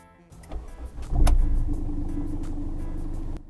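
A Hyundai car pulls away, its engine note rising after a click and then settling into a steady, close, moderately loud drone for a few seconds before easing off.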